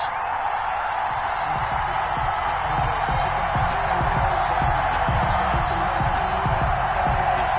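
A home crowd roars in an EA Sports football video game, a steady, loud stadium wash of cheering and whoops before a match against the Buffalo Bills, with faint clapping throughout.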